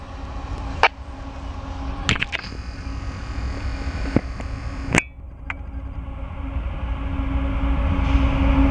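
A CSX westbound freight coal train rumbles past at close range in Marion, Ohio, with a steady low roar, broken by sharp metallic clanks and bangs at irregular intervals, growing slightly louder.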